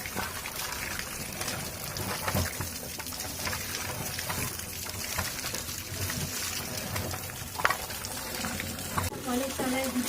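Water pours and splashes steadily in a bucket as vegetables are washed, a continuous soft gushing with occasional clinks and faint voices in the background.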